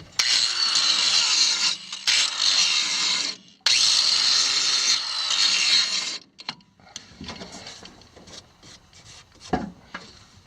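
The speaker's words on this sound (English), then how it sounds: "I want to hit this with the grinder and take the paint off of there" An angle grinder scours paint off a metal motor mount area on a Jeep CJ-5, close and harsh in two long passes with a brief gap between, then quieter scrapes, knocks and handling noises toward the end.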